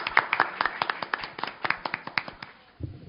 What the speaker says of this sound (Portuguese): eu peço uma salva de palmas para o Rogério